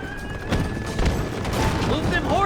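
Horses whinny in Red Dead Redemption, with high neighs rising near the end over a busy mix of game sounds, hoofbeats and voices.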